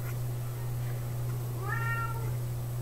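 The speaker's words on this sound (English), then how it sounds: "Bonus points if you can hear the screechy little cat." A small cat lets out one short, screechy meow partway through, fairly faint over a steady electrical hum.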